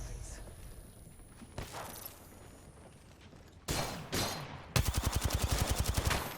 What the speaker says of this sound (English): Kid doesn't stop shooting.